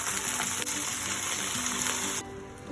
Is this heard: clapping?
no